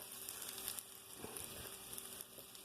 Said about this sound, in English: We're roasting it in this little pan.